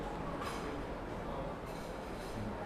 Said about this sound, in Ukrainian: Трамваї, ненавиджу їх.